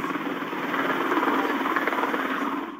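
Apache Longbow attack helicopter taxiing on the ground, a loud steady roar of turbine and rotor with dense broadband whine, close and continuous before tapering off at the end.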